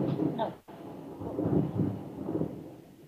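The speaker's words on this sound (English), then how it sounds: "Is that thunder in somebody's environment?" Thunder rumbles in a distant room during an online group call, a low rolling roar that swells and fades over a few seconds. The rumble sounds muffled and picked up faintly through someone's microphone.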